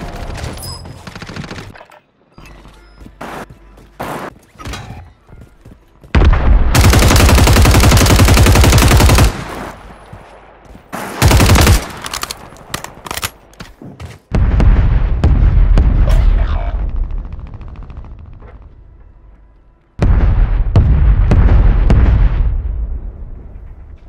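Call of Duty gunfire during a Resurgence match comes in loud, sustained automatic bursts with explosions and scattered single shots in between, separated by brief lulls and nearly no talk.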